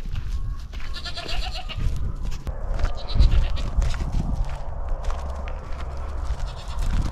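Goats kept as lawn grazers bleat repeatedly outdoors, several loud nearby calls overlapping with rustling and movement, no talk.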